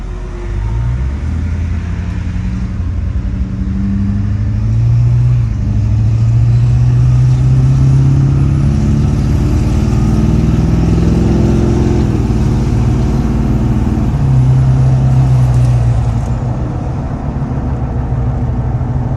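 An LB7 Duramax diesel truck accelerating on a straightaway, a steady low engine drone heard from inside the cab that rises and falls in pitch as it gains speed.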